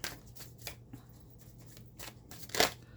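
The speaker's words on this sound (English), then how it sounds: "Let me pull a little love oracle, a couple of cards." Oracle cards are shuffled by hand in short, soft riffling bursts, a few faint flutters ending in a louder close snap of cards, no talking.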